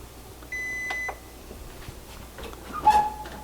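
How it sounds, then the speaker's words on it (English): An electronic kitchen timer beeps during buttermilk cornbread cooking: a short steady tone then a couple of brief beeps, followed by kitchen clatter and a sharper bright tone near the end, fairly faint and with no talk. "I have a timer going off"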